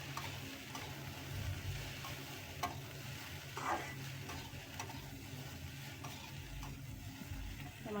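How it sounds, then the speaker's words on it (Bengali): Egg and onion dry-fried (bhuna) in a pan, a constant crackling sizzle with soft scraping and stirring clicks on and off, moderately close and steady throughout. "শুকনা ভুনা হবে আজকের ডিমটা আমার। শুকনা করে ভুনা করব।"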